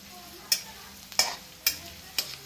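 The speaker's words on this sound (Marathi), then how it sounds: "तेल तापून द्यायचंय, मग त्याच्यामध्ये कांदा ऍड करायचा। कांदा ऍड करायचा आणि त्याला नीट भाजून घ्यायचंय चांगला।" Onion fries in hot oil for homemade chicken gravy, a low sizzle broken by four sharp scraping stirs, each one a brief loud burst spaced about half a second apart.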